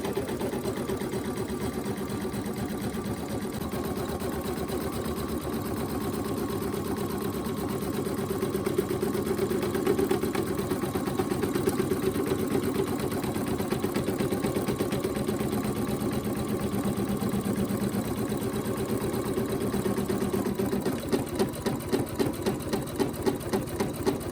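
An embroidery machine stitches an appliqué key fob in the hoop, a steady rapid mechanical chatter of needle strokes running continuously at moderate volume with no talking.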